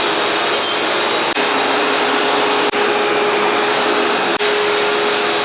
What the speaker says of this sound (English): vacuum's doing its thing.